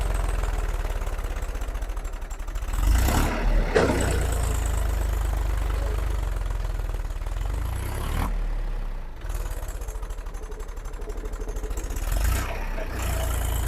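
A Massey tractor engine labours hard on a rough, narrow road, a loud continuous rumble that surges and dips throughout.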